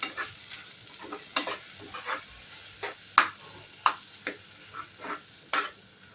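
Spoon stirring home-ground spice masala and sambar masala into a sambar mixture in a pot, with quiet scraping strokes and intermittent clinks over a faint background sizzle.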